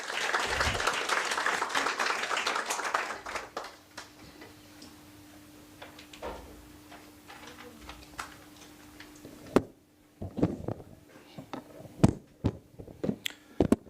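Conference applause welcoming a presenter, heavy at first and then thinning to scattered claps amid a faint steady hum, with a few sharp knocks near the end.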